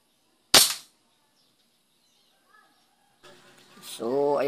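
A tactical Metatron hammer-type PCP air gun, shooting around 930 feet per second, fires one sharp, loud, close shot, followed by near silence and then someone talking.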